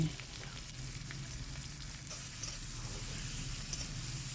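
Onion, garlic and ginger fry in a pan for an egg curry, giving a soft, steady sizzle with faint stirring scrapes throughout, fairly quiet and without talk.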